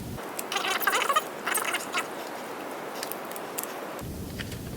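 A Traxxas TRX4 motor being wiggled back into its mount, small plastic-and-metal clicks, scrapes and ratcheting rattles coming in short close bursts, with a steady background hiss and no talking.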